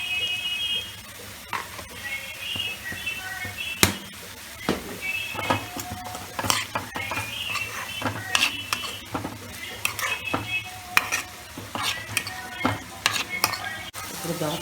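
Prawns frying in a pan with masala as the water cooks off, a steady close sizzle broken by repeated sharp clacks of a spoon stirring against the metal, with no one talking.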